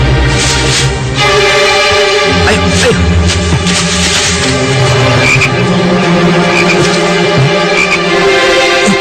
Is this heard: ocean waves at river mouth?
no